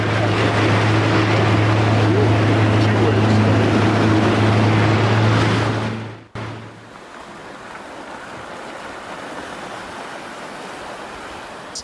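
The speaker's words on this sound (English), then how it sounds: "Enormous ice chunks crash into the water, generating powerful waves and reshaping the coastline." Glacier ice in Svalbard collapsing into the sea, heard as a loud, sustained roaring rush with a low rumble for about six seconds, then cutting off abruptly to quieter, steady water and wind noise.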